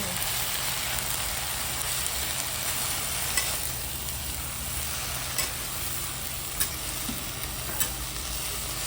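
A garlic tempering sizzles continuously in a hot pan on a wood-fired stove, with a steady crackling hiss. Now and then a spoon scrapes or clicks against the pan as it is stirred.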